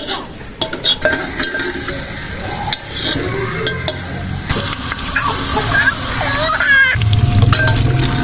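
Onions frying with whole spices, star anise flower, bay leaf, cloves, black cardamom, cumin and black peppercorns, in a pot for chicken mandi, sizzling steadily close by with clinks and stirring scrapes and a brief voice.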